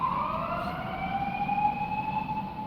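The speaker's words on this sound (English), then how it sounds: "they threw me off with this alarm" An emergency vehicle siren wails outside a truck, a loud sustained tone sliding slowly in pitch over a low engine rumble, with no talking.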